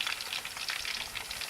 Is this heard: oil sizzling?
yes